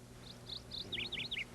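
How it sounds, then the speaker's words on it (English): Birds chirp in trees with a quick series of bright, high tweets, first a few spaced calls then a faster cluster, clear and alone over a quiet background. "Henry, the birds have come back to the trees again."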